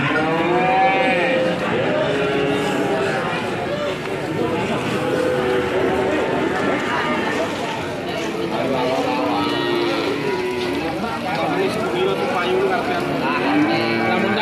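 Young Limousin calves moo repeatedly at a busy cattle market, their calls rising over steady crowd chatter and people talking close by.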